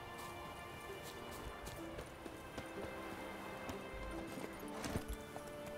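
Hooves of Geralt's horse Roach beat a steady galloping clip-clop in the video game The Witcher 3, a continuous rapid patter under a hissing, rain-like ambience, with no speech.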